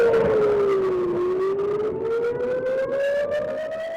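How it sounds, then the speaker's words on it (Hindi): An air raid siren wails in Israel as a warning of a Hezbollah rocket attack, its rising and falling tone sounding loud and sustained, with a fainter second siren layered over it. "ये सायरन खतरे को देखते हुए बजाया गया है।"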